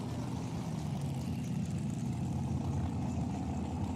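A heavy, low engine rumbles steadily and evenly at a drag racing track during bracket races, with no talking.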